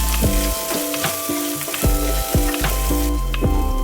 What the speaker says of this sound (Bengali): আদা কাঁচা লঙ্কাটা ভাজা হয়ে গেছে